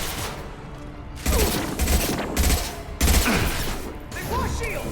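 Gunfire in a Mass Effect 2 firefight: dense bursts of shots and heavy thumps come in waves over a constant rumbling battle din, and voices call out partway through.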